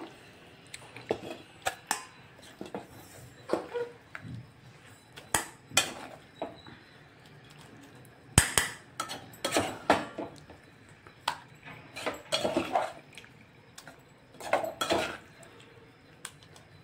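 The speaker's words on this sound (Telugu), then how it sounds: "అందుకని చెప్పి వేరే గిన్నెలోకి తీసేస్తున్నాను" Eggplant curry is moved from a pan into another bowl, with a spoon clinking and scraping against metal vessels in irregular, sharp knocks separated by short quiet gaps, fairly close and with no speech.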